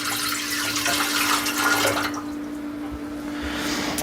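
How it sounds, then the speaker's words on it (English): Water poured from a measuring jug into the pan of a Vevor bread maker, a steady splashing trickle for about two seconds that then thins to a quieter, lower flow, heard close with no talking. "So this is 180 milliliters of water."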